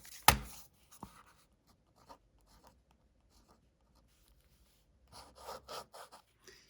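A pen writes angle values onto a trigonometry diagram during a cosine rule lesson, producing faint scratchy strokes in short bursts separated by quiet pauses.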